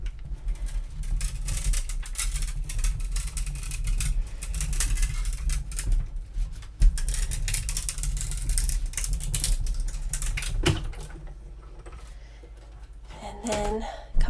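A manual die cut machine cranked by hand with a faux leather sheet between stacked cutting plates, giving a steady mechanical grinding and ratcheting clatter close up that runs for about eleven seconds, then eases into quieter handling noises.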